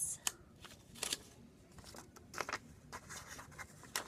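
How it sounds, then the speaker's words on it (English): Quiet snips and crisp paper rustles as scissors cut two slits into a paper penguin mask, a handful of short irregular cuts close to the microphone with soft handling noise between them. "Take your scissors and cut two slits."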